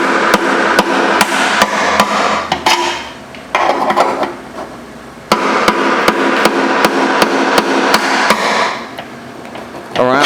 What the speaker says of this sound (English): And all I'm doing is just hitting the screwdriver